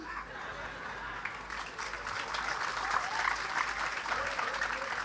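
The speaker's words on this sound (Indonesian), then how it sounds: "Ini yang tepuk tangan." An audience applauds with a dense, steady patter of many hands clapping, building slightly and holding, heard from a moderate distance.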